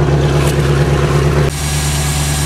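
An old fishing boat's engine idles steadily while it warms up, giving a loud, low, even rumble with a persistent hum. A brief knock is followed by a slight drop in level, and the engine keeps running.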